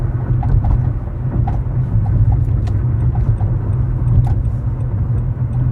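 A car driving steadily along a road, its low engine and tyre rumble continuous and close, with no talking.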